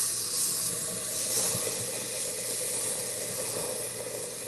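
Wine poured into a hot pan for mushroom soup gives a steady, close hiss of steam and sizzle that holds evenly throughout with no talking.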